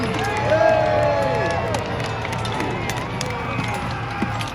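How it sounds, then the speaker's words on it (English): A large outdoor crowd at a Battle of Hastings reenactment shouting and cheering, a dense wash of overlapping voices with scattered claps. "make some noise. Cheer the warriors on."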